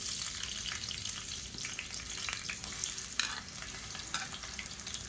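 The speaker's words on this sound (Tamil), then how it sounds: "எண்ணெய் சூடானதும் மீடியம் சைஸாக 2 பெரிய வெங்காயம் நீளமாக நறுக்குனதை சேர்த்துக்கலாம்" Long-sliced onions frying in hot ghee and oil in a cooker: a steady, loud crackling sizzle throughout, with occasional stirring scrapes and no voices.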